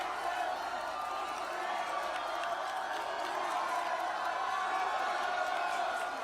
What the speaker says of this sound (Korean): 한 박수 부탁드리겠습니다